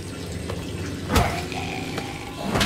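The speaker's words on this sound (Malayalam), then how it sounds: "ഫ്ലഷ് ഓടിച്ച നാസിന ടോയ്ലറ്റിലിട്ട് പണിഞ്ഞ്." A toilet flushes in the video game Wolfenstein The New Order, with running, gurgling water under a few sharp clanks and knocks.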